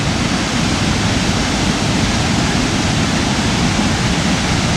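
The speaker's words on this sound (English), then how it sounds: "And there's our waterfall." Ramsey Creek Falls in South Carolina pours with a loud, continuous broadband roar of falling water, steady and unbroken throughout, heard close with no voices.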